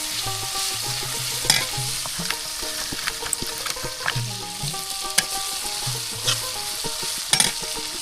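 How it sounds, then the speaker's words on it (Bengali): Onion, chili and mixed spices fry in oil for a rural Bengali dried-fish dish, a steady close sizzle with repeated stirring and scraping strokes and occasional sharper knocks of the utensil. "তো পেঁয়াজ কিন্তু তেলের মধ্যে ভেজে নেওয়া হচ্ছে, পেঁয়াজ মরিচ আরও বিভিন্ন ধরনের"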